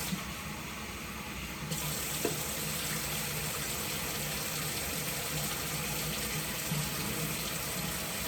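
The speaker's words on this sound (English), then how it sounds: "you're going to measure out 1/2 cup of warm water." Warm tap water runs steadily into a measuring cup for challah dough, a continuous close splashing stream.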